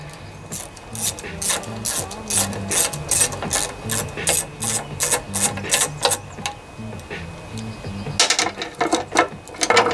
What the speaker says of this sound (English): to remove this whole gas tank assembly, take your 1/2 inch, and this is the main mounting bolt right here